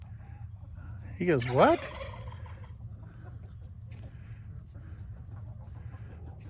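A brief, loud burst of fowl calls, a rapid rattling gobble-like cry, rises over low steady background hum in a backyard chicken-feeding setting, followed by quieter ambient noise.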